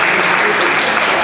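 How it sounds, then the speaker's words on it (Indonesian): Loud, dense applause from an audience at a student presidential debate, continuous clapping for a full second without any speaking over it. "kita berikan tepuk tangan"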